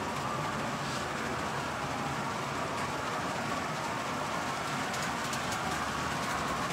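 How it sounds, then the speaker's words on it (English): A LEGO UP GTEL locomotive model rolls around standard R40 track curves, giving a steady, even rumble and rattle that runs without a break for several seconds, with no talk. "The locomotive's capable of negotiating standard LEGO R40 curves"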